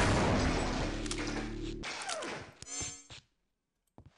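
Gunfire in Half-Life: Opposing Force: a loud burst of rapid shots with heavy low booms for almost two seconds, then sharper cracks and a metallic clatter before quiet, with faint thuds at the end.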